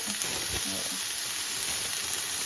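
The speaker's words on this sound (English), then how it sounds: "I'm gonna go ahead and add these now so that they can start getting browned a little bit in the pot" Frozen Trader Joe's sliced shiitake mushrooms brown in a pot with a steady, even sizzle and hiss that holds throughout, with no voices over it.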